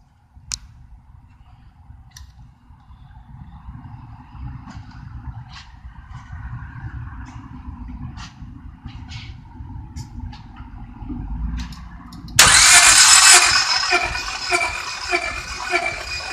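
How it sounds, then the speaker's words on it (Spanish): A four-cylinder car engine cranks over for a compression test, a steady low churning rumble that runs for several seconds before a loud broadband hiss bursts in near the end. "voy a proceder a girar el motor para ver la compresión"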